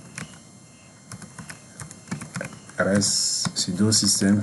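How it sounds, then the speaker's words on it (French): Rapid keystrokes on a computer keyboard as a Linux sudo systemctl command is typed, a run of close clicks, with someone speaking French over the later part. "Pour démarrer un service, nous allons taper la commande sudo system"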